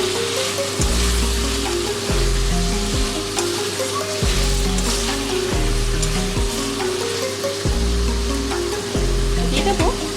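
Potatoes, pointed gourd and eggs, all fried beforehand, are stirred together in a frying pan, with a steady loud sizzle broken every second or two by a spatula scraping and stirring. No one speaks.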